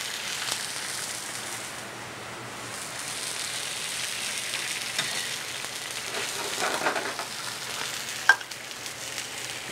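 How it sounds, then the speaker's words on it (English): Cabernet Sauvignon hits a hot pan as it is deglazed and reduced, giving a loud, steady, even sizzle close by, with faint stirring scrapes and a small clink near the end. "And I'm deglazing the pan. Reduce the wine a little bit."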